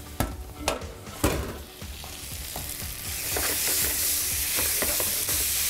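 A cooking paddle scrapes spiced potato sauce around a pan, a few sharp scrapes first and then a steady sizzle with light repeated scraping strokes, close up and with no voices.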